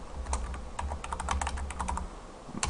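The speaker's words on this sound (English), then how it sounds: "So I'll type in bulk extractor." Keys clatter on a computer keyboard as a command is entered in a Backtrack 5 Linux terminal, a quick irregular run of close, soft clicks over low background hum.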